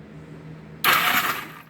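The engine of a 1982 Honda Goldwing motorcycle, spark plugs removed and flooded with leaked gas, cranks over with a sudden loud spraying whoosh after a quiet stretch, then tapers off.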